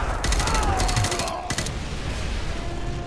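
Rapid automatic gunfire in Call of Duty Modern Warfare 2 Campaign Remastered rattles in a fast, even burst for over a second, then gives way to dense, loud battle noise.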